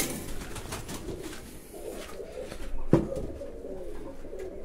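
Pigeons cooing inside a pigeon loft that holds Viennese pigeons from Germany. A steady low murmur of overlapping coos carries throughout, with a louder burst near the three-second mark and no talking.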